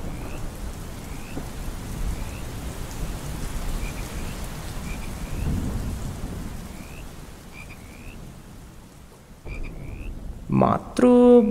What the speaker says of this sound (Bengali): বাইরে তখন ঝমঝমিয়ে বৃষ্টি হয়েই চলেছে।